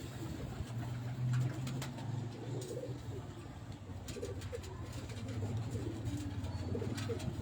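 Pigeons coo near their eggs, a steady low rolling coo repeating throughout at close range, with faint background chirps and distant noise.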